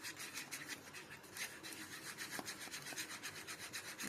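Powder colour is stirred into candle wax with quick, rhythmic scraping and rubbing strokes, soft and close, repeating steadily throughout.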